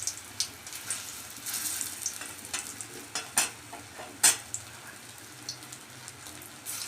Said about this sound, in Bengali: কোপ্তাগুলো একটা একটা করে ভেজে নিলাম,